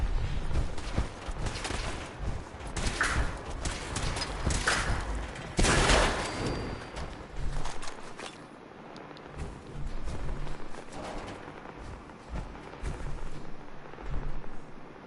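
Gunfire and explosions in Fallout 4, a rolling battle of booms and shots at moderate level, busiest early and around the middle, then thinning to scattered distant bursts.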